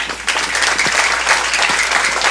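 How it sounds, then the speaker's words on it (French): A crowd at an official launch of a grape processing factory breaks into loud applause for the board, with sustained dense clapping and a few sharper individual claps. "j'aimerais vous demander d'applaudir grandiosement"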